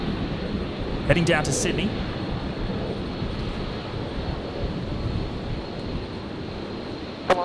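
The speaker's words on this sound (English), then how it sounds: "But we're looking at Qantas 545 at the moment, the 73 just about to rotate." A Qantas Boeing 737 on flight 545 rotates on takeoff at Brisbane Airport, bound for Sydney. Its distant, steady jet roar and some wind noise sit under a person talking.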